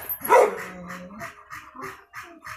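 A dog barks repeatedly nearby, a sharp first bark followed by a quick run of lighter yips and barks.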